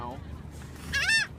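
Seagulls being fed at Wildwood, New Jersey, letting out a short harsh squawking call, close and fairly loud over a low background rumble.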